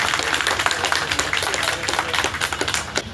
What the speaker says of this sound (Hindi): उनके लिए पहले जोरदार तालियां